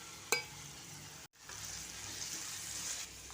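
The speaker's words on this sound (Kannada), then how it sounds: "ಈರುಳ್ಳಿ ಎಲ್ಲ ಎಣ್ಣೆಯಲ್ಲಿ ಬಾಡಿಸ್ಕೊತಾ ಇದ್ದೀನಿ" Onions and crushed garlic sauté in hot oil for a soya and green gram curry, giving a steady, close sizzle with a sharp clatter near the start and a brief dip before the frying hiss resumes.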